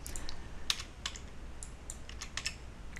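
Computer keyboard typing heard as a handful of quiet, separate key clicks at an irregular pace, close by and alone over a faint background hum.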